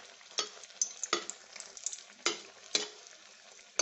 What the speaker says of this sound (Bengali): আপনারা একটু হালকা করেও ভেজে নিতে পারেন